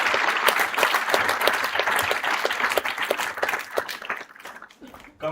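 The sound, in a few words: audience applause at an inauguration ceremony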